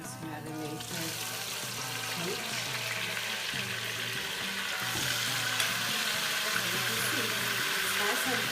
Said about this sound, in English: I'm going to gently add in this marinated meat.